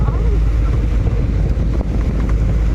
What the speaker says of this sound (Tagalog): Ay grabe yung ulan, no?